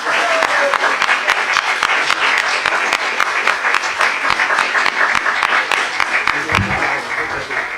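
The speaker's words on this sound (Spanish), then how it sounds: "Un aplauso." An audience applauds at an academic colloquium on contemporary studies of Chile's indigenous languages, with steady, dense clapping filling the room throughout, a few sharper claps standing out and a low thump near the end.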